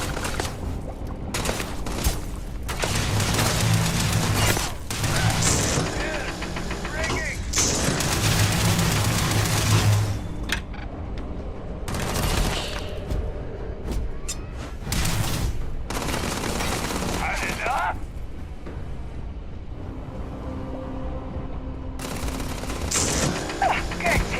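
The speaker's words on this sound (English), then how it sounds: "opening fire." Sustained gunfire from the video game Starfield, dense bursts and fusillades running nearly throughout at a steady loud level, with brief lulls and occasional voices mixed in.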